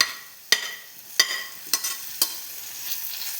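Sliced tomato tipped into a hot pan for a Malayalam-style elephant foot yam roast, with several sharp scraping stirs of a spoon spaced about half a second apart over a soft, steady sizzle; no voices.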